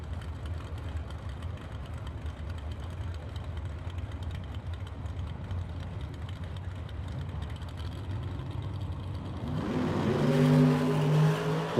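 A Dodge Stealth drag racer with a big Mopar engine in front rumbles at a steady mid-level idle at a Super Pro drag race, then revs sharply near the end, growing louder with a rising engine note.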